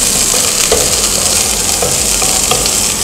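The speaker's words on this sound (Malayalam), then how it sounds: "പതുക്കെ ഇങ്ങനെ ശകലം തുറന്നിട്ട് ഇങ്ങനെ വഴറ്റുക" Ginger and garlic sizzle loudly in hot oil in a pan while sautéing for paneer butter masala, a constant close frying hiss with faint stirring taps.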